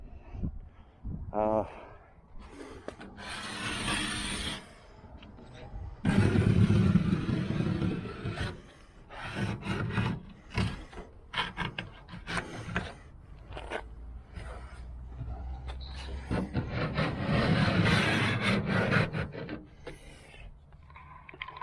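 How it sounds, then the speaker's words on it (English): A razor blade scrapes old finish off the body of a 1981 Chevrolet Silverado, with repeated close rasping strokes coming in bursts, and someone talking between and over them. "I scrape it off like that"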